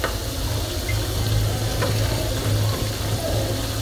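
Cauliflower pakora frying in oil, a steady dense bubbling sizzle that stays close and even throughout, with no talk.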